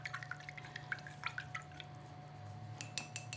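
A paintbrush is rinsed in a water cup during acrylic painting, with quiet, close drips and light glassy clinks of the brush tapping the container, a few sharper taps near the end.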